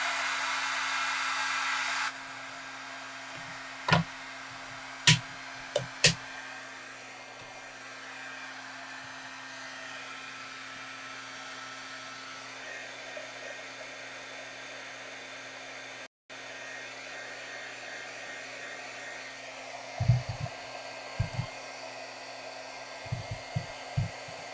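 An electric heat tool used in card making blows a steady, loud whooshing drone, interrupted briefly by a dropout, with a few faint taps and clicks near the end.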